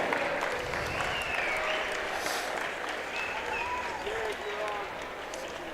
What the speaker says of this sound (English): Let's give a big round of applause for Blake, Creed, and Charlie